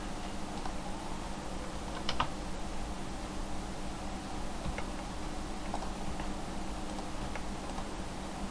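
A computer keyboard is used for copying and pasting code in a Leaflet WebGIS tutorial, with sparse, faint key clicks and a short cluster of taps over a low steady room hum, no speech.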